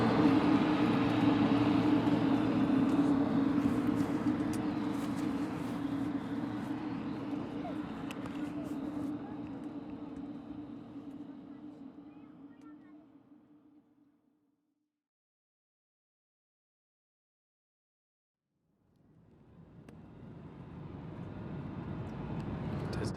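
Steady, loud cabin roar of an airliner taxiing before takeoff near Jeju Island. The rumble fades to silence midway, then swells back up; no talk is heard over it.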